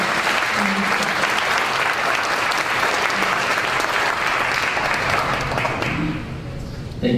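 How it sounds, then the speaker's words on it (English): A large event audience applauds loudly and steadily at a summer evening gathering, the dense clapping holding for about six seconds before thinning slightly, with a faint voice beneath near the end. "please, a round of applause for this"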